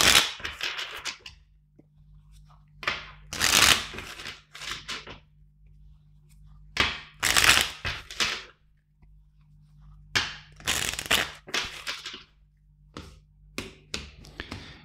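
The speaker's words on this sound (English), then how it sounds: "let's shuffle the deck four times." Bursts of tarot cards being shuffled, quick flicking and riffling in close, uneven clusters separated by short pauses.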